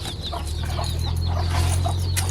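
Farmyard chickens clucking in alarm at a cobra near a farmhouse, a busy run of overlapping clucks and calls over a steady low hum, fairly close and continuous.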